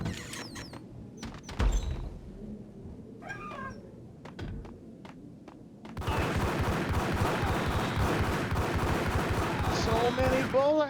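Dense, continuous gunfire erupts loudly in a video game after several seconds of quieter scattered sounds, then keeps going as a sustained rapid barrage to the end.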